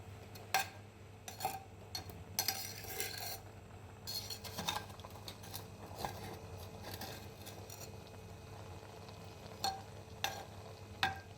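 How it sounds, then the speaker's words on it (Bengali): Cooked rice being turned over and stirred in a pot with the lid briefly off: scattered scraping and light clinks of a spoon against metal, spread across a steady low kitchen hum. "মাঝে ঢাকনা খুলে ভাতটা একটু ওলটপালট করে দিলাম"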